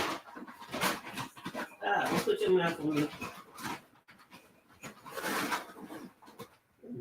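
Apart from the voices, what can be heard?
dogs whimpering and panting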